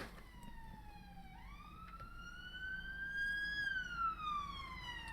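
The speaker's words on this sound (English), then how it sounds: "Police cars are going past." A police car siren wails faintly in the distance, its tone sliding up and then gradually down as it passes, over a low background rumble.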